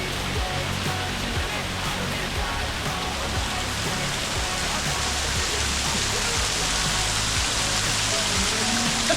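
Aling Aling waterfall in Bali pouring down, a loud, steady, broadband roar of falling water with no break through the whole stretch.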